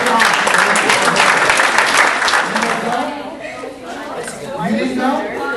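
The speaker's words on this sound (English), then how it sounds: "give them a round of applause." Loud audience applause at a high school talk, dense clapping that swells and then eases slightly, with crowd chatter mixed in throughout.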